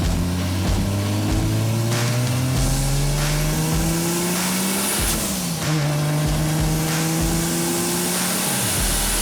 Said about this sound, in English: we're going dirt track racing